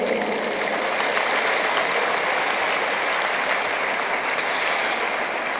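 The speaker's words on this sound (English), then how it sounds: "the Honorable Minister deserves an applause that can bring down the roof of the velodrome" Sustained applause from a large audience filling a velodrome at a national youth conference in Nigeria, honoring the Minister of Youth and Sports; steady, dense clapping throughout at an even level.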